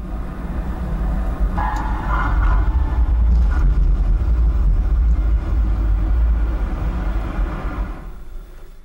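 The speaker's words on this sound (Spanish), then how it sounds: "Primero, Jack reproduce el sonido de la parte oriental del túnel." Traffic rumble recorded at the east side of a road tunnel, a loud continuous low drone of passing vehicles echoing in the enclosed space, steady throughout with no voices.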